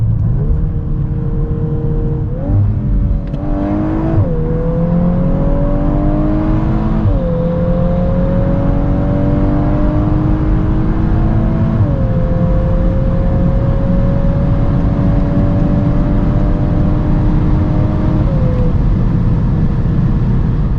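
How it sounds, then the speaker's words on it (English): Volkswagen Golf 8 R with 320 hp accelerating hard from 100 to 200 km/h on a damp road, engine note rising steadily through several gear changes as a continuous loud roar with road and wind noise, no voices. "So let's now see how fast the Golf R goes, 100 to 200."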